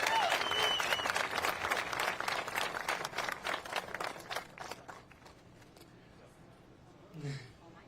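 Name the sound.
audience applause at bridge opening ceremony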